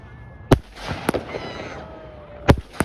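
Fireworks at a Victoria Day display in a North York park in Toronto, several sharp loud bangs spaced irregularly with crackle and rumble between them, and a faint voice in the background.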